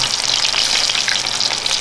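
Shallots hitting hot coconut oil with mustard seeds and fenugreek for a fish curry, a loud, dense, continuous sizzle close by with no talking.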